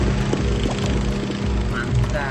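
A helicopter flies overhead in the video game Hospital Tycoon, its steady rotor chop pulsing under a person talking.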